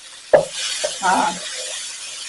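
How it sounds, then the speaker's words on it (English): Bacon and rice are stir-fried in a pan, with a sharp scrape of the utensil followed by short, close stirring scrapes over a soft frying hiss. "We're going to stir fry this."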